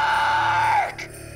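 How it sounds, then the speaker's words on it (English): A woman screams during a film shoot, a loud sustained high cry that slides downward and breaks off, followed by a brief gasp against a humming background. "Now you can scream."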